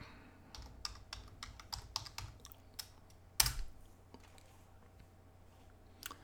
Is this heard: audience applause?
no